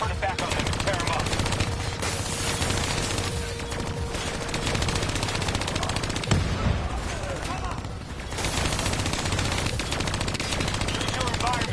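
Dense automatic gunfire and explosions from the Black Ops 3 video game campaign, a near-continuous barrage of shots and bursts with a heavier boom in the middle, with a voice speaking over the combat.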